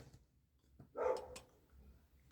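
A dog gives a short burst of barking, faint and somewhat distant, one or two quick yaps in an otherwise quiet room.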